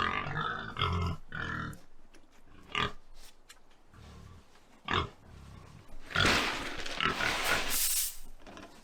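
Several pigs on muddy farm ground grunt and snort close by in irregular bursts, with heavier, louder rooting and squealing noises near the end.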